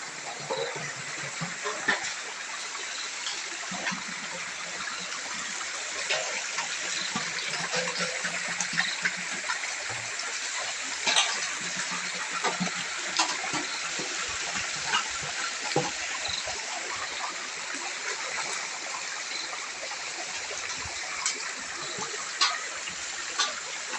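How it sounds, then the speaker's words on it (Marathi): Clean stream water flowing steadily outdoors in a natural setting while water is collected into a pot, a continuous broad rushing and trickling wash lasting throughout with small splashes and no talk. "निसर्गाच्या सानिध्यामध्ये असं एक होडा आहे आणि ओढ्यावरचं आम्ही पाणी भरून नेणार स्वच्छ असं पाणी"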